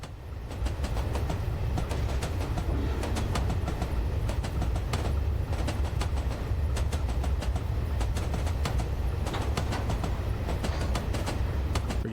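A simulated narrow gauge train on the Ffestiniog and Welsh Highland Railway runs in Train Simulator Classic. It gives a loud, continuous low rumble with a steady scatter of wheel clicks and clatter, heard without talk.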